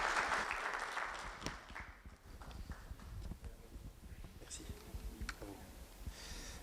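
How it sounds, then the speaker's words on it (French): An audience at a Tunisian startup pitch event gives scattered applause, fairly faint and uneven, with clicks and shuffling around it and brief voices in the room. "Vos applaudissements, s'il vous plaît, pour Khadija Jallouli."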